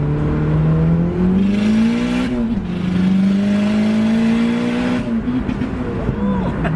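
A 350 hp turbocharged 9th-generation Honda Civic Si engine roars loudly and up close, revving repeatedly through rising and falling pitches with a whooshing intake and brief shift dips.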